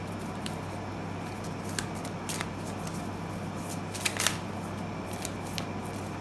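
Soft, continuous tarot card shuffling with occasional crisp snaps and flicks over a steady low hum, close by, no talking.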